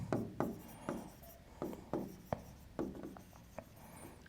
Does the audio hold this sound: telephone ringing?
no